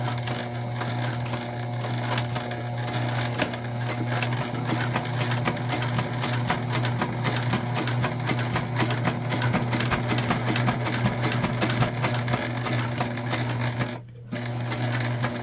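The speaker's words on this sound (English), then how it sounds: "we're going to stitch around the outside of this box at a 1/8 inch seam allowance" A Juki sewing machine runs steadily for the whole stretch, stitching around the edge of a zipper box on a structured bag with black thread, a continuous close-up mechanical hum and rapid needle clatter with one brief pause near the end.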